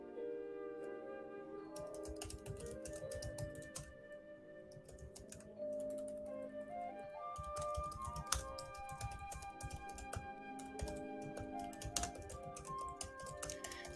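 Steady computer keyboard typing during a live perfume-talk session, a dense run of clicking keystrokes close to the microphone that continues throughout with no speech over it.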